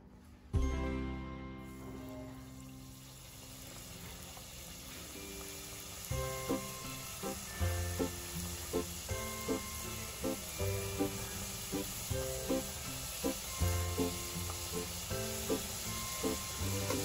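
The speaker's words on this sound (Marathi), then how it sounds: "तर आता आपण हे तळून घेऊयात।" Modaks frying in hot oil, a steady close sizzle throughout with a burst of bubbling as they go in and later a run of regular soft clinks from turning them in the pan.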